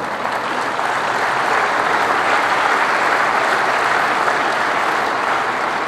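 A large audience at the Philippine President's 2012 State of the Nation Address applauds loudly and continuously, a thick, even roar of clapping filling the hall for around six seconds without speech.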